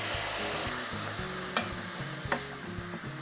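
Risotto rice toasts in a pan as wine goes in, a dense close sizzle with a couple of sharp stirring taps against the pan, no talking over it.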